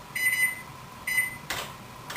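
Home microwave oven keypad giving three short, bright electronic beeps spaced about a second apart, close and clear in a quiet kitchen, with a brief soft clatter between the last two.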